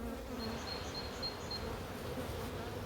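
Honeybees buzzing softly and continuously around an opened National hive brood box, a faint, even hum with occasional higher-pitched passes from individual bees.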